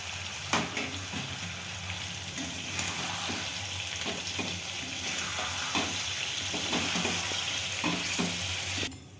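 Chicken with chopped capsicum and onion is stirred in a kadai. A steady, close sizzle runs throughout, broken by repeated scraping strokes of the spatula against the pan.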